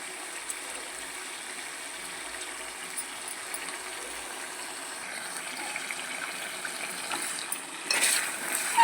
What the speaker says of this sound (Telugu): నిమ్మరసంలో అల్లం వెల్లిపాయ పేస్ట్లో ఆయిల్లో ఉడుకుతూ ఉందనుకోండి